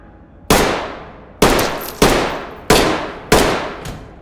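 Rifle gunfire from the video game Ready or Not: five loud, sharp single shots spaced roughly a second apart, each with a ringing decaying tail, no voices.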